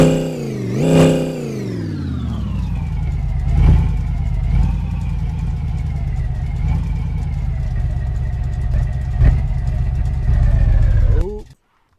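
A supercharged truck engine in a home garage revs up sharply, then settles into a sustained loud, droning high-rpm whine with small throttle blips before cutting off abruptly at the end.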